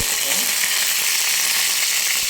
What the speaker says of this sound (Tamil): இந்த சமயத்தில் நல்லா கடுகு வெடிக்குது